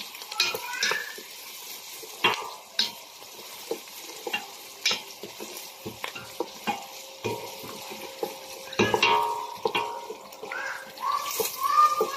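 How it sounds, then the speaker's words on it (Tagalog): Garlic and onion sautéing in a pan, with a steady soft sizzle and repeated clinks and scrapes of a spoon stirring against the metal. "igigisahin ko na siya ng bawang at sibuyas"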